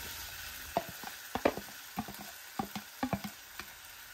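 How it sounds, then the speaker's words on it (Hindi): Chopped eggplant for baingan bharta sizzling and frying in a pan while being stirred, with scattered clinks and scrapes of the spoon over a steady close hiss, no talking. "अब हम इसमें डाल देंगे हमारा चॉप किया हुआ बैगन और इसे अच्छी तरह से मिक्स कर लेंगे"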